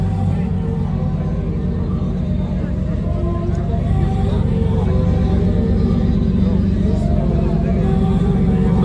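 A turbocharged car engine runs in a loud, continuous low rumble with a steady idle drone, heard close up. No individual revs or boost noises stand out.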